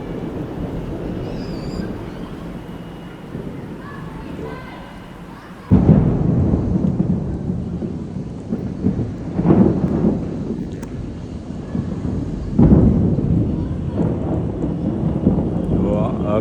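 A monsoon thunderstorm over Surat in the afternoon: low rumbling thunder with several heavy booming surges, the first sudden and loud, over continuous rain and wind buffeting, with a voice briefly audible.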